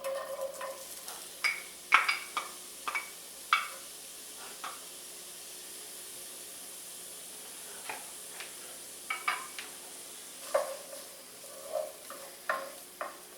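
About half a cup of chopped yellow onion cooks in a hot pan, with a quiet sizzle under repeated sharp scrapes and clicks of stirring that come in irregular bursts.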